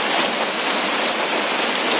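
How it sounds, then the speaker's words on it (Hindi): Heavy rain pouring down in a steady, dense hiss across the whole stretch, close and loud with no break and no voices, as in a strong downpour in Assam. "अब देखो बारिश काफ़ी जोर से हो रहा है"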